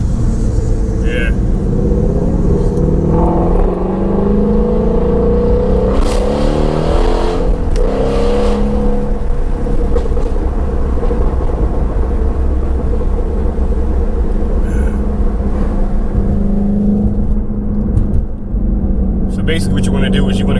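A Ford Mustang Shelby GT350 rumbles loudly and close, with deep, continuous exhaust drone and a few sharp pops and crackles mid-way; people talk over the engine throughout.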